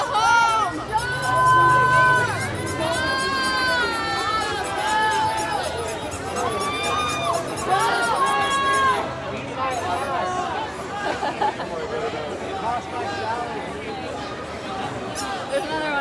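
A protest crowd shouting and jeering at police, with many overlapping raised voices and whistle-like squeals, loud and dense at first and then thinning into scattered chatter.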